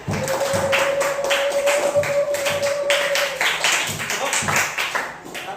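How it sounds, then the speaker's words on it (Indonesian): A class of schoolchildren claps together in a classroom, a burst of rhythmic clapping close by while a voice talks over it. "Oke ya, tepuk tangan untuk kita semuanya."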